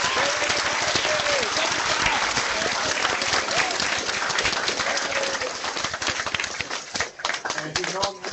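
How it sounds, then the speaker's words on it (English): Sustained, dense applause from an audience welcoming 1984 Pro Football Hall of Fame member Willie Brown, steady clapping that thins out and turns patchy toward the end, with a voice faintly under it. "give them a warm round of applause in welcoming class of 1984 Pro Football Hall of Fame member Willie Brown"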